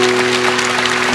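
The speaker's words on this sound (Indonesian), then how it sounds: "Kasih tepuk tangan untuk Tuhan." A church congregation at a sermon gives a burst of loud, continuous applause, with sustained musical tones running steadily underneath.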